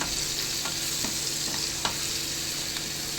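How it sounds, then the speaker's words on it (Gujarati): A spoon stirs chili powder, turmeric and salt into sizzling fried onions and tomatoes in a pan, producing a steady frying hiss broken by a few distinct scraping clicks, close up with no talking. "તો હવે આની અંદર આપણે નાખી દઈશું મરચું, થોડી હળદર, થોડુંક મીઠું અને પછી મિક્સ કરી દેવાનું છે"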